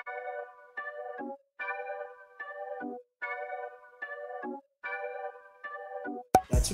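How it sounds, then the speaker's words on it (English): A one-shot synth melody pitched up 100 cents repeats in three short phrases, bright stepped notes with brief gaps, ending in a sudden burst of noise. "Then I pitched it up 100 cents,"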